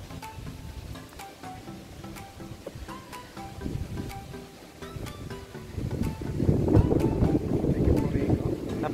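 Strong wind near the Waterton National Park border crossing into Montana buffets the microphone in low rumbling gusts that grow louder toward the end, with intermittent clicks and a faint tone in the background.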